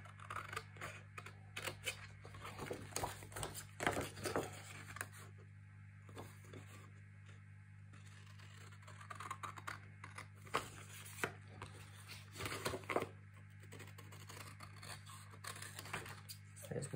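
Scissors cut paper for a handmade album, giving sparse, quiet snips and rustles in small clusters over a steady low hum in an indoor room.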